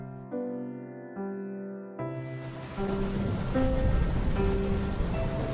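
Heavy rain pours down steadily, a dense, loud hiss of drops on surfaces that swells in after a sustained musical chord fades, with no talking.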